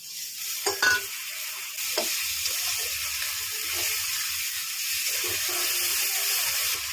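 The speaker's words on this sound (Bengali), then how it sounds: "মশলাটা ভাজা হয়ে গেছে" Garlic, ginger and chili paste with a whole tomato frying in a pan, a loud continuous sizzle and hiss with a few stirring knocks near the start, close up and free of talk.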